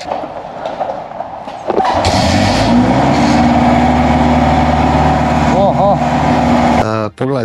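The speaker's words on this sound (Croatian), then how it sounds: "pritisne se, morate imati malo jače noge i tako se motor pali" A Kawasaki motorcycle engine kicks into life at about two seconds, then idles and revs loudly and close up in a garage for several seconds, with a couple of throttle blips near the end.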